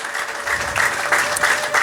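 A church congregation applauds during a testimony service, with steady, dense clapping from many hands throughout and no pause.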